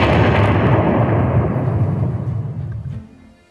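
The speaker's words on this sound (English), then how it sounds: "Or, for example, here, bomb explosion." An AI-generated bomb explosion sound effect, made with ElevenLabs, delivers a loud, close, booming blast with heavy low rumble that rolls on and decays over about three seconds before fading out.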